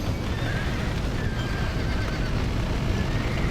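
A horse whinnies loudly in Red Dead Redemption during a barn fire rescue, its neigh rising over a dense roaring, rumbling background with hoof clatter.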